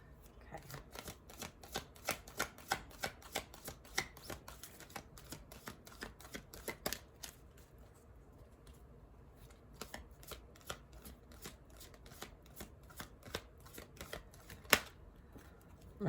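Quick rapid riffles of a tarot deck being shuffled, a fast run of crisp flicks, then a pause and another burst, close and quiet.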